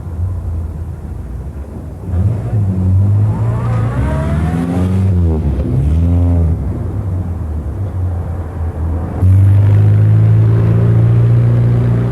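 A Morris Minor (Morris 1000) car drives with its engine running steadily, rising and falling in pitch as it changes speed and growing louder near the end, with no talk.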